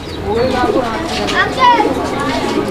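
Royal Lahori pigeon cooing close by in repeated soft rolling calls, with people talking over it throughout.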